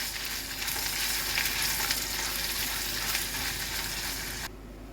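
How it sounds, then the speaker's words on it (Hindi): Onions and ginger garlic paste fry in ghee with a loud, steady sizzle and stirring scrapes close up, cutting off abruptly near the end. "प्याज को फ्राई करना है और बढ़िया से जो है भून लेंगे अदरक लहसुन के पेस्ट को"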